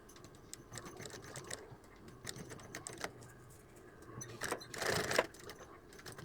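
A sewing machine stitches across a pants zipper in short bursts of rapid mechanical clatter between quieter pauses, building to a louder, denser run of stitching near the end, with no talking.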